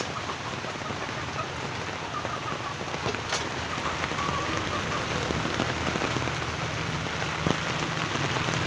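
Rain falling steadily outdoors where chickens are kept, a constant dense hiss of drops hitting surfaces, close and fairly loud, with a few sharper drips standing out.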